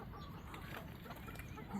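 Chickens clucking at feeding time on a farm, with geese and turkeys also kept there, come through as faint scattered clucks over a soft outdoor background, with no clear talk.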